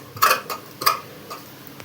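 Sharp metallic snips of scissors cut through frock fabric while stitching, two strong clicks close together followed by fainter ones, heard close with no voices.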